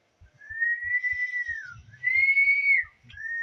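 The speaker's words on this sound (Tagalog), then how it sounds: "Sipol ka lang" A person whistles in three sustained notes, the first long and gently falling, the second higher, and a short third, heard clear and close over faint soft thumps.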